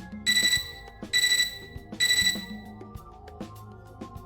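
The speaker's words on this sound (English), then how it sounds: "Suddenly, I'm startled out of my silent contemplation by a beeping from my computer terminal." A computer terminal in the game Fate/Extra beeps in three short bursts of bright electronic tones at a steady pace, fairly quiet, with a low background hum and no voices.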